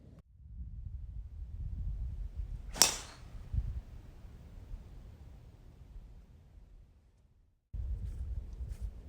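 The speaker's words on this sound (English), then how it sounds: "Tee it high, let it fly with driver." A golf driver strikes a ball teed up high off the tee: one sharp, loud crack stands out over steady outdoor wind noise, with no talking.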